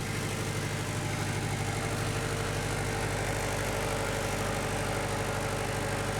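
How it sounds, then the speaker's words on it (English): A steady mechanical drone of the starboard generator in the engine room of a 2010 Ferretti Altura 840 yacht, well isolated, a constant low hum with a faint whir and rattle, close and unchanging, no voices. "So the starboard generator is working. It's very well isolated, so the noise level is very reasonable."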